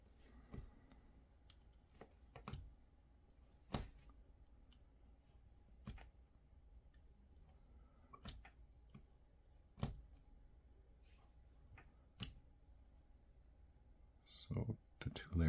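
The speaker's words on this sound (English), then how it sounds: "So I'll just do a bit of cutting." Scissors snip through stacked layers of black paper with a drawing on top for a samurai armour papercutting, giving sharp isolated clicks every second or two at close range over quiet room tone, with a brief rustle near the end.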